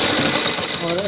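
A sewing machine runs briefly while stitching a fabric strip along a shaped neckline design, its steady buzzing whir close and loud under a speaking voice.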